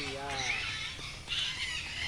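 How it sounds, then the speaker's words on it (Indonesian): A white cockatoo lets out harsh squawks close by, partly covered by nearby voices and background noise. "Kakak tua putih."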